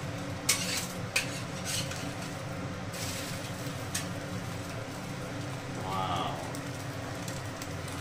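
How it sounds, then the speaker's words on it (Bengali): An egg roll frying on a street-food griddle in Bengal, with a steady low sizzle under clattering utensil taps and scraping, a few sharp metallic clinks early on, and busy background noise throughout. "এগ রোল ভাজা হচ্ছে।"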